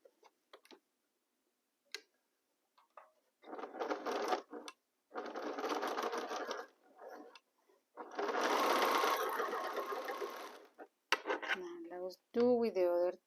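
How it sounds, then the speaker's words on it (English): A sewing machine stitches a quilt seam in short bursts, a fast mechanical whirring chatter that starts and stops between pauses, with a person talking quietly toward the end. "We nest our seam allowances here and continue sewing."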